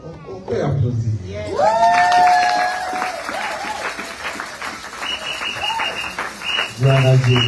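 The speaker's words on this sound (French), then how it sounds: "Est-ce qu'on peut applaudir?" A church congregation at a Sunday service claps and cheers in a sustained, busy patter, mostly beneath a loud voice speaking or chanting over it.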